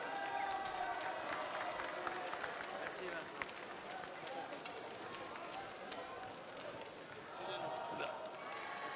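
An audience at the Bocuse d'Or 2013 cooking contest applauds steadily, a dense sustained patter of clapping from a large crowd under a loud hall ambience.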